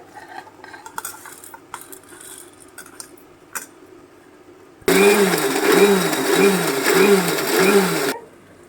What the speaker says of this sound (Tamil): நான் அரைச்சிட்டு இதை வந்து பல்ஸ் மோட்டர் போட்டு ஒரு சுற்றி எடுத்துக்கலாம்